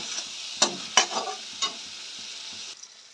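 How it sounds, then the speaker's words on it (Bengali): Spice paste for tangra fish curry being stirred and sautéed in a pan: a soft sizzle underneath a few distinct scraping strokes of the spoon, close by and fairly quiet, with no talk. "এখন একটু কষিয়ে নেব।"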